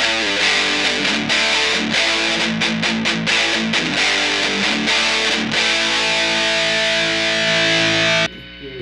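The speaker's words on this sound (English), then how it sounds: "this is a 6505 at high gain settings snapshot model" Electric guitar played through a Proteus pedal running a neural-network model of a 6505 amp at high gain gives a loud, heavily distorted riff of chugging palm-muted chords, then a sustained ringing chord that cuts off abruptly.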